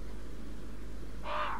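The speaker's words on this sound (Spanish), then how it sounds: "Vale, aquí hay cuervos." Crows caw in a Resident Evil 4 game scene, a single harsh call rising late in the moment over steady low game ambience.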